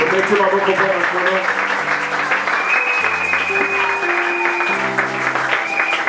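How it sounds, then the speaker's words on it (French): A church congregation at a Sunday service applauds, sending a continuous wash of clapping under sustained musical tones and some voices, loud and close throughout. "On acclame pour le Seigneur."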